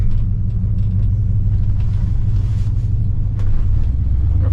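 A 1972 Cadillac cruising along a road on a drive toward the beach, its big V8 engine giving a steady, loud low rumble close by, with no voices.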